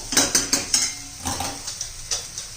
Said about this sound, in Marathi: एक सारखं हलवत राहायचंय नाही तर खाली लागतो वाटाला